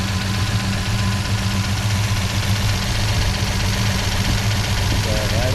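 A worn 1963 Studebaker GT Hawk engine idles steadily, a loud, close, continuous low rumble with an even beat throughout.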